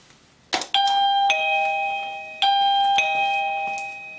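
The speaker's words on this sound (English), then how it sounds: "talking about my single switch call chime" A single switch call chime rings out clearly, a bright two-tone ding-dong sounding twice after a click, the tones ringing and slowly fading, loud and close with no talk.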